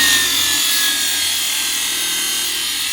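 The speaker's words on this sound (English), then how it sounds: "So I'm going to alter that first on the grinder" A farrier's grinder shapes a steel horseshoe, giving a steady, loud, continuous grinding hiss that holds without a break for the whole stretch, with no talk over it.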